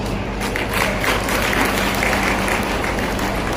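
A crowd applauds steadily for a few seconds at a Raksha Bandhan festival event in Shivpuri, a moderate, even wash of clapping without any standout cheers.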